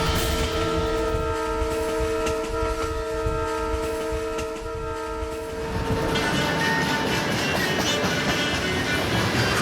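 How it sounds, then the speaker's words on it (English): The Trans-Siberian train rolls steadily along the rails in Siberia, with sustained tonal hum from the carriages giving way to rougher rumbling noise, continuous and fairly loud. "this is the Trans-Siberian, Russia's best-known railway"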